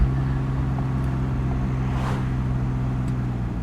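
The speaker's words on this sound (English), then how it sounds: "Oh yeah, you can hear the exhaust a lot more." A Porsche 718 Boxster 25 Years cruising with the windows down, its exhaust a steady low drone under road and wind noise, close and continuous.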